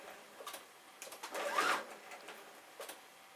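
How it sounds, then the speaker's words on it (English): A sewing machine stitches along the edge of a jeans front pocket in short, quiet bursts, with one longer run of stitching in the middle. "I would stitch it a half a centimetre from the edge. Alright, go forward"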